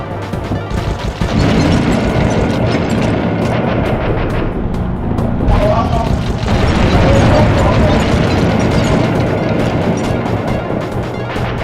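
Missile explosions crash and boom almost nonstop during a boss fight in Sly Cooper and the Thievius Raccoonus, a dense, loud barrage of blasts and clanking mechanisms with no let-up.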